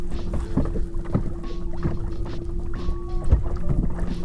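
A Minn Kota Endura C2 trolling motor speeds up on a boat out on the water, giving a steady close electric whine under wind buffeting and splashing, with the pitch shifting as it rises.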